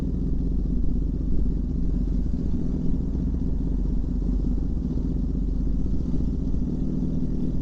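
A motorcycle engine runs steadily and up close throughout, a continuous low rumble with mechanical clatter, no talking over it.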